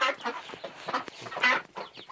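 Chickens cluck and squawk in an excited, agitated chorus, several birds calling close by in quick bursts.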